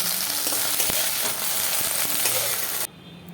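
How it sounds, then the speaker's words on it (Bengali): Okra fries in a wok (kadai) with a loud, steady close-up sizzle and a few faint scraping knocks, then the sound drops away abruptly near the end. "দেখুন আমার ঢ্যাঁড়স ভাজার কমপ্লিট হয়ে গেছে ঠিক এইভাবে আমি ঢ্যাঁড়সগুলোকে ভেজে নিয়েছি"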